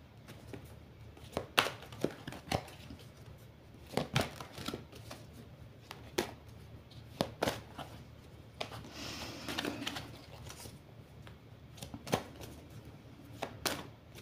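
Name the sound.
shuffling and cutting tarot cards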